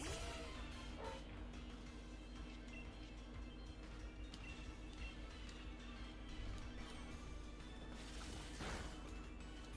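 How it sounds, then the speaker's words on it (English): A pet dog barks a few times at home, short yips rising over steady background game music and sound effects. "That's my dog barking."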